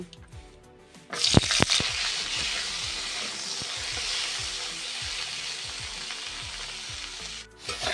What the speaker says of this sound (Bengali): এবার শিমগুলো ভেজে নেব